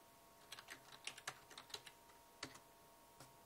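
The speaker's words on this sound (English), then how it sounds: "So type ping and the address of the ISP." A short run of keystrokes on a computer keyboard as a ping command is typed, faint and close, irregular clicks in small clusters with a pause before the final few.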